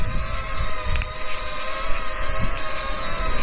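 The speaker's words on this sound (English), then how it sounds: "and this drone is fighting the wind" A JJRC H45 Bogie toy drone flies outdoors in strong wind, its small motors holding a steady high-pitched whine with layered harmonic tones over low rumbling wind buffeting, loud and close throughout.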